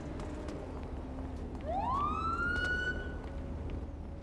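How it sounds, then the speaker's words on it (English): A police car siren in a video game winds up once into a rising, sustained wail, moderately loud over a low rumbling engine-like background, then fades off. "so figured if I turn my sirens on, eventually you'd hear me"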